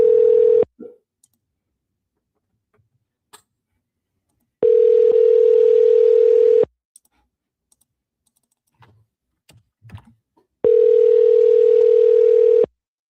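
A steady telephone dial tone rings out in three separate bursts of about two seconds each, broken by quiet gaps with faint clicks and soft keypresses between them.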